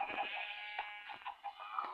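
Sheep bleat softly and repeatedly at a distance on a Minecraft farm, short wavering cries spread across a quiet moment.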